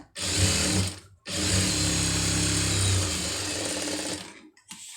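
A sewing machine stitches a fold in cloth in two close bursts: a brief run, a short pause, then a longer steady whirring run that fades and stops, with no talking.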